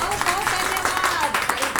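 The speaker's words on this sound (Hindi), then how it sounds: "इसके लिए तालियां बननी चाहिए।" Applause from an audience at a Navratri devotional singing event, dense steady clapping over lively background music and voices.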